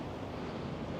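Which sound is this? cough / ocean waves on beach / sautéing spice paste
ocean waves on beach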